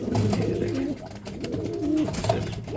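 Belgian bloodline pigeons cooing close by, several soft throaty coos overlapping in a short run with no talking.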